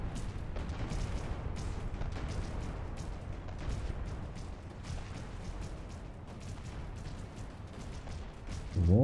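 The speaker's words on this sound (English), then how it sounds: "the mortars are desperately trying to hit anywhere reasonable to shoot" Battleship mortars fire in the naval combat game From the Depths, a run of dull thuds and booms over a continuous rumbling background, with a sudden louder tonal sound rising at the very end.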